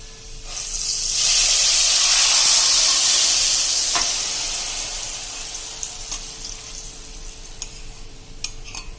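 Soaked moong mogar dal tipped into a hot pan bursts into a loud, close sizzle that swells for a few seconds, then eases into a softer hiss dotted with small crackles and pops.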